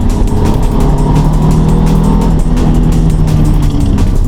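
Ford Mustang pushed flat out on a test drive, its engine a loud, sustained roar heard from inside the car with no talking.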